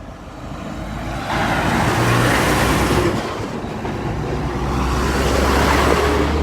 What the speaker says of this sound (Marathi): हे दिसाक इतले खूब ट्रक वता ह्या वाटेन